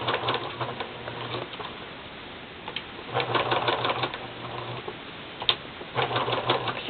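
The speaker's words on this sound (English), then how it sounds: "I'm going to sew a little tab on of the silk she sent me." A sewing machine stitching a small silk tab onto a scrap patch, light rapid ticking and whirring in short bursts with pauses between them, moderately close.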